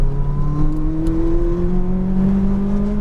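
A McLaren 570S engine pulls hard on a race track, its loud, steady note climbing smoothly in pitch under acceleration and heard close throughout.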